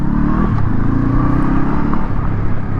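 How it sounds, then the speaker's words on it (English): A Honda Scrambler 500 (2026 SCL500) motorcycle rides along a gravel road, its engine droning loud and steady with a close rumbling tone and continuous road noise. "Now, this is a brand new motorcycle, so I'm not going to be flying up and down this gravel road"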